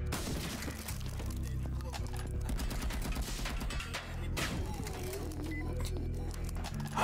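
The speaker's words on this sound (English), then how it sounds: "I can shoot from that." Rapid gunfire and booming blasts from a first-person shooter game, dense bursts with steady backing music, loud and continuous across the whole stretch, with no clear talking on top.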